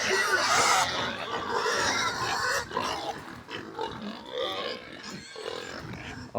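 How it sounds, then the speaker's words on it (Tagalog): A farm pig grunting and snorting as it is fed, with repeated close, rough grunts over several seconds and some faint human voice in the background. "Nagpapakain sa kanyang baboy."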